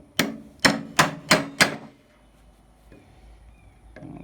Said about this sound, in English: We'll give it a few more whacks.